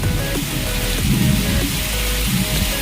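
Steady rain pattering on a surface, a dense continuous hiss with scattered drops, fairly close and without speech.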